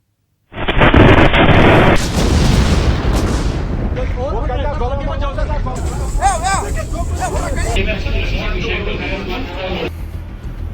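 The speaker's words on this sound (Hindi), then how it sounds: "सीसीटीवी में कैद हुआ है ये जोरदार धमाका" A sudden, very loud blast of seized explosives at the Nowgam police station in Jammu and Kashmir, caught on CCTV, followed by a rumbling aftermath and agitated voices shouting and talking over the noise.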